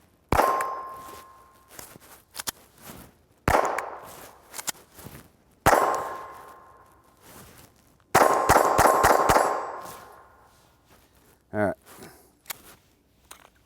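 A Glock 44 pistol fires Remington Golden Bullet .22 rounds outdoors, sharp, loud single shots with ringing tails, several spaced apart and then a quick string of five, with metallic clinks between them.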